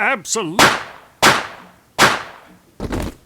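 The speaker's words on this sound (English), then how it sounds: "you shot him" Gunshots in a tense drama scene, three sharp loud cracks about 0.7 seconds apart with decaying tails, followed by a fourth rougher burst, after a brief voice at the start.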